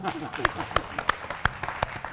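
Scattered, sparse handclaps ring out from an audience at a Doordarshan 64th Foundation Day stage event, a few sharp claps spaced irregularly beneath ongoing talk.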